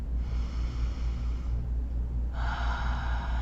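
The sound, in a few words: deep breath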